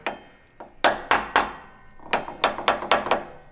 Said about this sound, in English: couple light taps with the brass hammer just to make sure it's fully seated